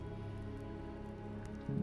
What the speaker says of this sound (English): Outside, The rain began to ease.